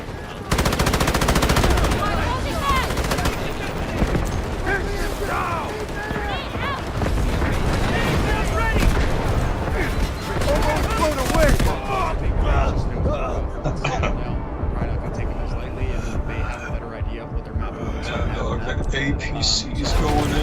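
A video game battle with an artillery barrage, dense rumbling booms layered with rapid machine-gun fire, loud and continuous, with voices talking over the din.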